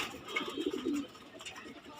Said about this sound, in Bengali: আমি আজকে দেখাবো একটা সবজি কবুতর বাচ্চা